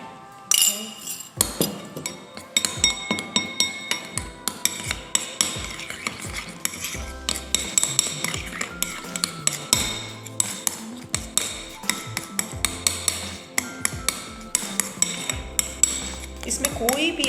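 A spoon clinks rapidly against a bowl while cornflour face pack is mixed, a busy run of sharp metallic taps and scrapes close by, with occasional low thuds and no talk.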